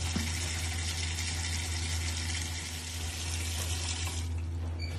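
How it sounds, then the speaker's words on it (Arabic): Hot water runs steadily from a kitchen tap into a cooking pot, a loud continuous close-up gush that holds without pause for the whole stretch. "هيدي مي سخنة."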